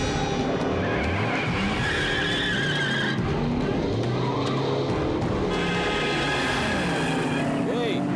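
Cartoon vehicle skids with tire squeal amid dramatic music, with voices talking over the loud, busy action.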